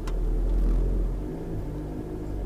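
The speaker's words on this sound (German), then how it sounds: "Ich schmeiß mal einen Gang rein, damit er ein bisschen Last hat und gebe ein bisschen Gas." Car engine held in gear under light load with a little throttle, a low, steady rumble that swells briefly then settles, heard up close during exhaust temperature sensor fault diagnosis after the particulate filter.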